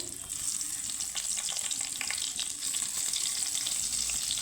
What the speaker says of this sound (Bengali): বেগুনগুলো যেহেতু ভাজবো তো বেগুনগুলো একে একে দিয়ে দিব